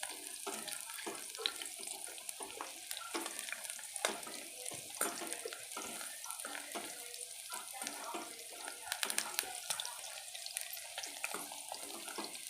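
Okra fries in a pan for a spiced bhindi dish, giving off a soft, steady crackling hiss with occasional scrapes and stirring bumps. The sound is fairly quiet throughout, with no speech.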